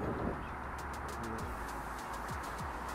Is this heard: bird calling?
yes